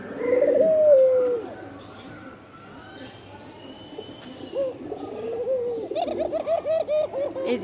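A dove on a rooftop coos in repeated rolling, wavering calls, a loud nearby phrase at the start and a quicker run of coos later, with faint background voices and chirps.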